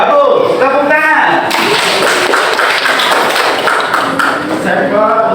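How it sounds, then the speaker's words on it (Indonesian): Classroom applause from students at a school session, a burst of dense hand clapping lasting a few seconds, bracketed by someone speaking at the start and end. "Tepuk tangan."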